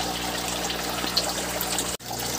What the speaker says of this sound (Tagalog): So yan, magre-refill na tayo ng tubig dito.